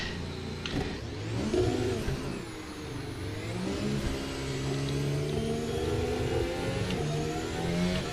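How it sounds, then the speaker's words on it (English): A race car engine in the Assetto Corsa racing game revs and shifts at Suzuka Circuit, a steady droning whine rising and falling through gear changes, continuous and fairly loud. "let me get back to driving the car"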